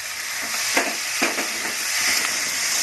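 Okra frying in a pan, a steady close sizzle with a few louder scraping stirs of a spatula partway through, no voices.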